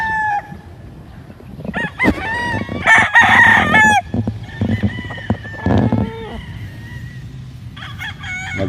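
Chickens and roosters on a large farm in the Philippines, with loud, close crowing calls that overlap one another, mixed with clucking and other farmyard noise.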